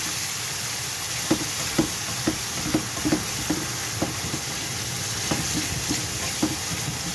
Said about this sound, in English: I'll load more of my base gravy, stroke soup, and stir that in.